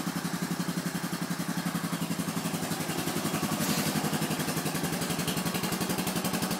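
Honda 350 FourTrax 4x4 ATV engine running steadily after a cold start: a close, even, fast-pulsing idle with a slight rise in revs midway.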